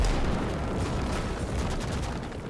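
Cannon fire and battle din from the Gates of Hell strategy game, a dense, continuous rumble of booms and blasts at steady loudness with no voices.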